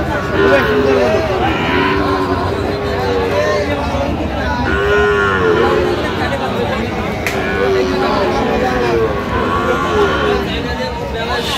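Sahiwal bull calves moo repeatedly at a busy cattle market, the calls recurring across the whole stretch beneath a continuous murmur of crowd voices and talking.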